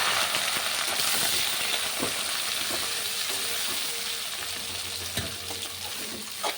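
Onion and curry leaves with mustard seeds fry in a hot pan for potato masala, a steady close sizzle with occasional crackles and pops, no voices.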